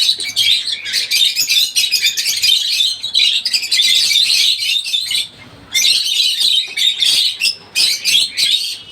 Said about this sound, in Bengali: তো আমার লাভবার পাখিগুলো কীরকম আপনারা জানাবেন।